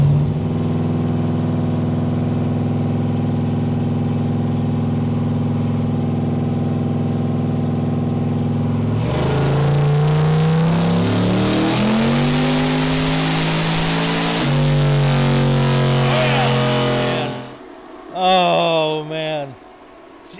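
A turbocharged 4.8L LS V8 in a Crown Vic idles steadily on a dyno, then climbs into a loud, rising wide-open pull with shifting pitch before cutting off, followed by brief blips and turbo whoosh.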